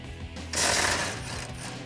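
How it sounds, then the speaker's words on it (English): A ratchet wrench loosens 21mm hex nuts on the frame bracket of a 2015-2019 Ford F150: a short, loud burst of metallic clicking and grinding amid low mechanical rumble. "you're gonna remove the two 21mm hex bolts or hex nuts attaching it to the frame bracket"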